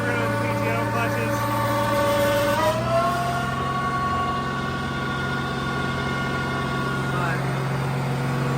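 A tractor engine, International Harvester 1206, Case 1370 or Oliver 770, labors steadily under load on a PTO-driven dyno, a loud droning roar with a shift in pitch partway through, running continuously.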